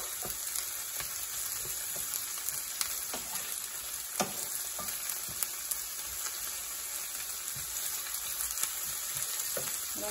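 Chopped zucchini, squash blossoms, purslane and green beans sizzle steadily in a hot pan while a spoon stirs them, with scattered scraping clicks over the constant close frying hiss.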